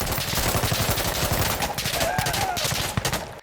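An M240B machine gun in Insurgency Sandstorm fires in a rapid, steady burst of loud, closely spaced shots with a sharp echo tail, while someone talks over it.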